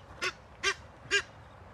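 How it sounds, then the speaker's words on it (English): Three short, evenly spaced duck quacks ring out close by, each a brief nasal burst with quiet pauses between. "Quack, quack, quack, quack, quack."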